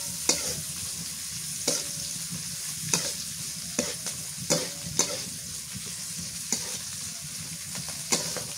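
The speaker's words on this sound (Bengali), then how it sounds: "পেঁয়াজ মরিচ তেজপাতা ভাজা হয়ে গেছে" Onion, green chili and bay leaves fry in hot oil with a steady sizzle, broken by regular scraping strokes of a spoon stirring the pan, close and moderately loud with no talking.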